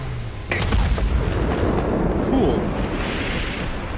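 An explosion in the video game A Way Out, a loud boom that bursts in about half a second in and rumbles on as a dense roar over the remaining seconds, with a brief voice near the start.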